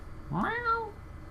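Sylvester, a pet cat, gives a single short rising-then-falling meow, clear and fairly close against a quiet room.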